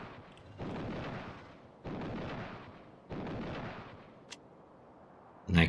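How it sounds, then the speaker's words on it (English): A railgun fires in the Space Exploration mod video game, three evenly spaced heavy booming shots, each with a rumbling decay, followed by a sharp click and a louder burst at the end. "the railgun is pretty nice shooting, especially from the sea"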